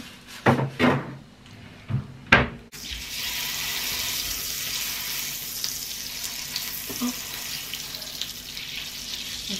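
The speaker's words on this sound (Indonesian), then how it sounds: "Suamiku masih menunggu teflon panas abis itu aku mau goreng jengkol" Jengkol frying in a hot Teflon pan, a loud steady sizzle starting about a third of the way in and continuing to the end, preceded by a few sharp clattering knocks.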